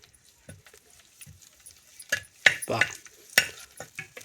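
Garlic hits a hot tawa for bhindi fry, giving quiet sizzling broken by several sharp scraping stirs and clinks of a utensil that grow louder toward the end.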